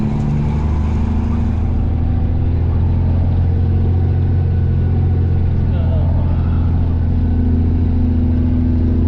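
A truck's engine pulls a trailer in deep reduction third gear, a loud steady low drone with a constant rumble throughout as someone talks over it.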